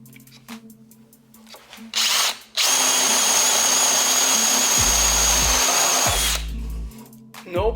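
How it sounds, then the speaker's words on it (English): A DeWALT DCD791 compact drill bores into wood with a loud, steady whine lasting several seconds, preceded by short trigger bursts and followed by a few brief pulses as it winds down. "Drilling."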